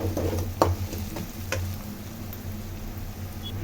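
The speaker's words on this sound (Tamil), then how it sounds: "இதெல்லாம் நல்லா நல்லா வதக்கிடலாம் நல்லா வெங்காயம் தக்காளி வதவிச்சு" Onion and tomato sauté in a pan with a soft steady sizzle, broken by a few sharp utensil taps and scrapes early on, close by and without talk.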